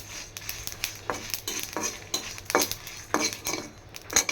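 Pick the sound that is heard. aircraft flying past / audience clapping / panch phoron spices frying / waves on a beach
panch phoron spices frying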